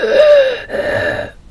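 A voice imitates the laboured, painful breathing of a wounded creature: two strained, wheezy breaths, a long rasping one and then a shorter one, close and loud.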